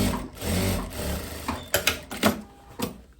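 A sewing machine runs steadily on a seam for a long, loose dress, then breaks into a few short, sharp mechanical clicks and taps as the stitching stops and the fabric is adjusted. The sound is close and moderately loud.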